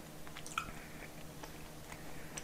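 Close, soft chewing of spicy Korean tteokbokki rice cakes in a Sinchambokki meal, a few moist bites and crunches over faint room noise.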